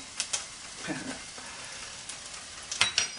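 Onions and garlic go into a hot frying pan, giving a low steady sizzle with a few soft stirring scrapes and a couple of sharper clinks near the end.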